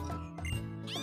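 A cat in Pokémon Ultra Sun lets out a short, clear meow, a single rising and falling cry up close with no talking.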